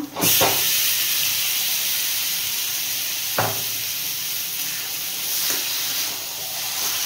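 Marinated mutton for mutton dakbungalow hits hot fried onions in a pan, setting off a loud, steady hiss and sizzle that holds throughout, with a few soft knocks of utensils against the pan, close and without speech.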